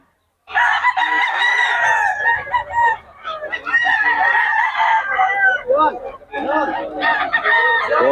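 Chickens and roosters at Bocaue, with loud, close crowing and clucking calls that overlap and repeat almost without a break.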